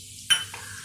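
Hot oil in a pan gives a sudden short sizzle and hiss as the tempering goes in for khandvi, fading quickly to a quiet crackle.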